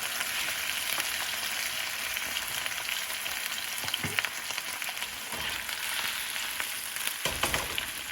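Potatoes frying Russian style in an open, uncovered pan, turning golden: a steady, close crackling sizzle with bright spitting pops, broken by a few soft knocks as the pieces are moved about, no voices.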